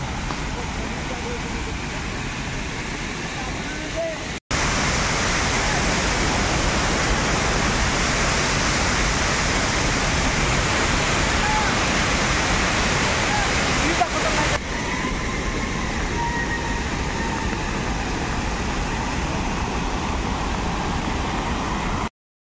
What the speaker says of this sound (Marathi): हे बघा मित्रांनो, हा मेन धबधबा